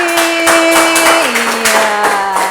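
Classroom applause for a student presentation group: scattered hand claps over a short stretch, mixed with a sustained tone that steps down in pitch partway through.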